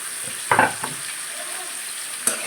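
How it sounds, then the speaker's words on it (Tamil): Onion, drumstick, green chilli and tomato sautéing in a pan for sambar, with a steady low sizzle and a couple of brief stirring scrapes near the start and one near the end. "சேர்த்துட்டு வதங்கட்டும். காய் ஒரு 5 நிமிஷம் வதங்கட்டும்."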